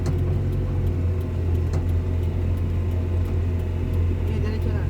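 A car engine idles and pulls at low speed with a steady, loud drone during desert driving practice, holding an even rumble throughout while a learner driver is coached on the clutch.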